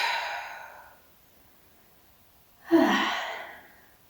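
Two deep breaths during a Pilates side-body stretch, a long exhale fading out followed by a sharper, louder inhale-exhale, close and alone with no talking.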